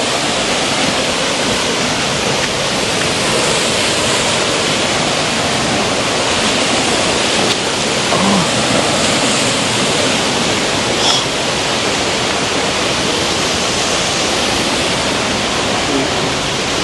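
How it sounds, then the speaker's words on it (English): Water runs off a hill in a steady, loud, broadband rush like a waterfall, continuous and unbroken throughout. "The water run off of the hill,"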